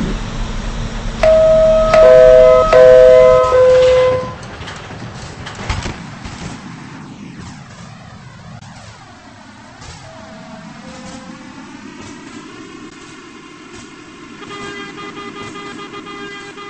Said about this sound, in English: There is an express train approaching the station.